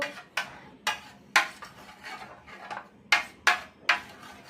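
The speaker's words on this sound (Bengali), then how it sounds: "আমি টক দইটারে ভালো করে নাড়াচাড়া দিব।" A spoon stirs sour yogurt in a bowl for falooda, giving about eight sharp, close clinks against the bowl at uneven intervals, fairly quiet and with no voices.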